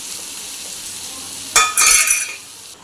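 Onions and masala powder for a chicken gravy fry in a pan, a low sizzle that flares sharply about halfway through with stirring and a metal clink, then settles back down, no voices.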